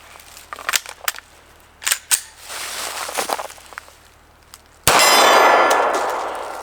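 A Sig Sauer M18 pistol fires after an earlier light primer strike, preceded by sharp metallic clicks and clanks of handling, then one loud close shot ringing out alone.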